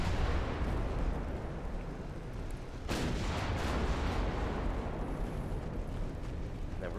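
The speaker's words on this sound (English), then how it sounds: "firing at clusters of ships is really, really effective." Naval guns in the Ultimate Admiral Dreadnoughts naval battle game fire on clustered torpedo boats, a dense, continuous rumble of booming shots with a sharper blast near three seconds.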